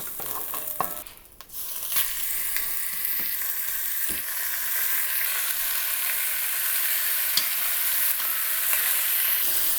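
Beef pieces browning in oil for a red wine pot roast, a broad, steady sizzle that briefly dips early on, then settles into a loud continuous hiss with occasional light clicks of the pan.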